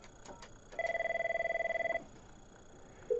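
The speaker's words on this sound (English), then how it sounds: "So now if I were to call 201, you'll notice that Bill's phone will light up" An Avaya 9508 desk phone rings for an incoming call, one fast warbling electronic trill of about a second, close and clear, followed by a brief tone.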